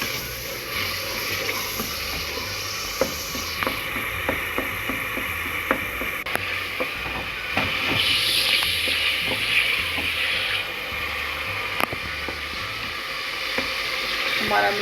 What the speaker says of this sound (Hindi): हमारा मसाला अच्छी तरह भून गया